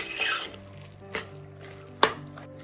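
Curry mixture being stirred in a pan for idiyappam, with soft scraping and two sharp metallic clinks of a spoon against the pan, no talking.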